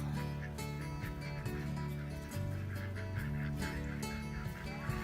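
Roosters on a muddy farm in the rain crow with sustained, steady tonal calls that hold and shift pitch across the whole stretch, fairly close, with no talk.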